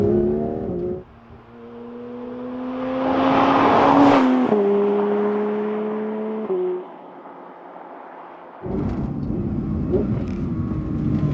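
A Porsche 992 GT3 on a twisty road test drive revs through its gears, the engine note climbing and holding in steady pulls with a brief lift-off lull before it surges again, heard from inside the car.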